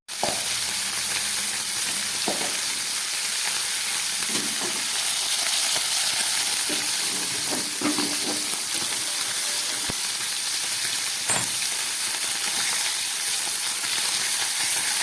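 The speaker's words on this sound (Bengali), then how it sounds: "এবার নুন হলুদ মাখা মাছটা আমি ভেজে নিচ্ছি।" Fish coated in salt and turmeric fries in a pan with a constant, close crackling sizzle, broken now and then by soft clatters from the pan.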